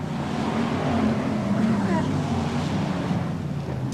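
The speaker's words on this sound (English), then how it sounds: "when these BriSCA Formula One stock cars are in full flight" BriSCA Formula One stock cars race at Boston in 1993, their engines a continuous loud roar with wind buffeting the microphone and a commentator talking over the noise.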